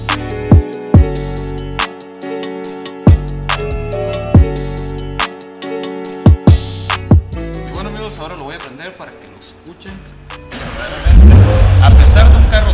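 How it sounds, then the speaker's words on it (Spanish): A 2020 Audi RS5 six-cylinder engine with an eight-speed transmission revs repeatedly near the microphone, sharp blips over a rumbling idle, then a rising rev and a loud, heavy roar at the end. "A pesar de un carro de 6 cilindros, suena bien chingón."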